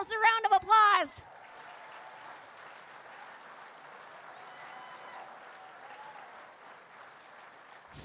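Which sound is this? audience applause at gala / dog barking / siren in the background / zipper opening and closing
audience applause at gala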